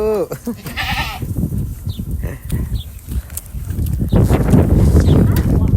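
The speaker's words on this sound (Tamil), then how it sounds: "மொத்த ஒரு பாலைவனத்தில் ஒரு ஆட்டுக்குட்டி இருக்குது" A young goat bleats close by in a few wavering cries at the start, with people talking and outdoor shuffling afterward.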